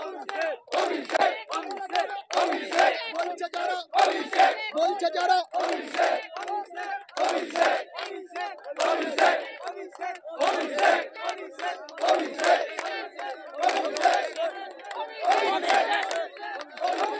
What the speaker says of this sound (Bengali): অভিষেক বন্দ্যোপাধ্যায়ের নামে তারা স্লোগান তুলছেন, তারা আওয়াজ তুলছেন